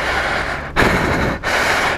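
A man breathes heavily and raggedly after pushing a GSXR motorcycle a long way home. Two loud, close, rasping breath cycles come in quick succession, each a long noisy exhale, with no speech.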